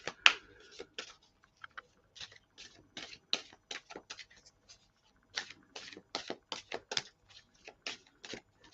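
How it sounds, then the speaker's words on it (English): Tarot cards are shuffled in a quiet room: soft, irregular bursts of papery riffles and flicks, close and faint. "They don't want me to stop shuffling."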